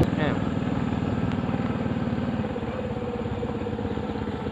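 A motorcycle engine runs at a steady, throbbing pace as the bike is ridden along a rural road home to the farm, a close, continuous drone with people chatting over it.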